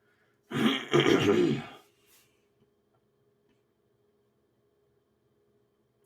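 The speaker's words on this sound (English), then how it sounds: "Sorry, I need to clear my throat again" A single throat clearing from a man pausing during a Tales of Maj'Eyal gaming session, one rasping burst lasting over a second, close and fairly loud, followed by near silence.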